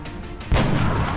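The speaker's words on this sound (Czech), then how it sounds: "A Ghostden střílí na Zombrata vzadu." A single heavy gunshot in the video game XCOM: Enemy Unknown booms at close range, a deep blast with a short rumbling tail over low background noise.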